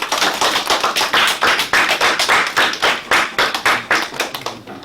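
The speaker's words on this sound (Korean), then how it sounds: "나머지 우리 3조 직원에게도 박수 한번" A university class gives rhythmic applause, loud and close, with sharp evenly spaced claps in unison throughout, nearly free of talk.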